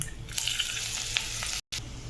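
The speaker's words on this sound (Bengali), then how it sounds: "ফোড়নটা একটু ভাজা হয়ে গেলেই দিয়ে দেবো রসুন।" A tempering of cumin, mustard seeds, dried red chillies and asafoetida crackles in hot oil for tomato dal, a close, steady hiss with small pops, cut off by a brief gap of silence near the end.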